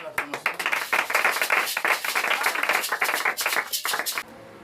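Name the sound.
congregation clapping in acclamation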